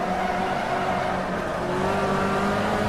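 Front-wheel-drive Fiat Uno engine in the Automobilista racing sim, a constant loud buzzing hum at steady revs, its pitch creeping slightly higher, heard alone.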